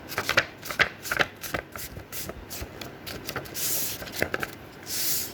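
An A4 paper sheet is folded in half to make a Father's Day shirt card, giving a string of close, crisp paper crinkles and creases with two brief, breathy swishes of the sheet near the end.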